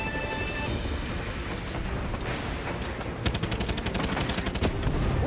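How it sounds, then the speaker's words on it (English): Gunfire in the Far Cry 6 video game, heard as a run of rapid, fairly loud shots over a constant dense background roar, with no talk. "I hear someone shooting a sniper rifle, but I don't see him."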